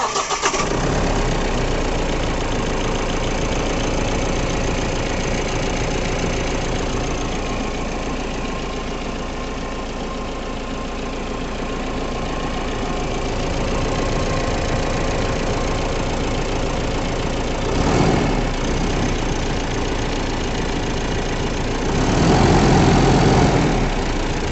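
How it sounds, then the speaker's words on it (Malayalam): A Mahindra BS6 City Pik-up with a 2.5-litre turbocharged diesel engine cranks and fires at once. It settles into a steady, close diesel idle with a faint knock, broken by two short revs toward the end. "നമുക്ക് വണ്ടി ഒന്ന് സ്റ്റാർട്ട് ചെയ്ത് നോക്കാം."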